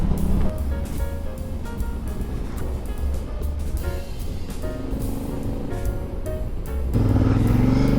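A Triumph Tiger 1200 motorcycle cruising down the M5 motorway, with heavy rushing wind buffeting over a steady engine drone that rises in pitch and loudness toward the end.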